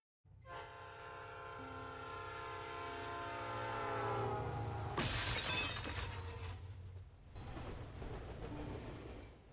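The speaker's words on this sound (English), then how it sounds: "But off you go now. Train's leaving any minute." A train departs in the video game Pokémon Reborn, beginning with a sustained horn-like whistle over rumbling, then a sudden bright crash of noise and fading mechanical clatter, with no voices.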